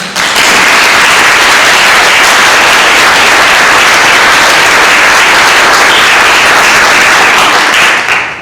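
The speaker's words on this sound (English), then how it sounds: "Can we have one more round of applause?" Large crowd at a University of Michigan Peace Corps celebration gives a loud, sustained round of applause, dense and even throughout before tapering at the very end.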